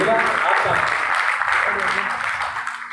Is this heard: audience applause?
yes